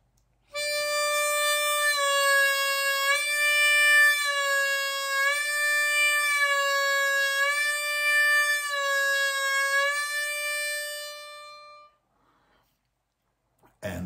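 Blues harmonica played on channel 4, a sustained reedy note repeatedly bent down a half tone and released, in a steady series of wavering pitch dips, close and alone.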